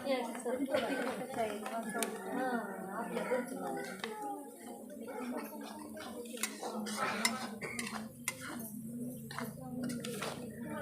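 A spoon stirs soya bhurji in a metal pan, giving repeated clinks and scrapes with sizzling underneath, while people talk over it throughout.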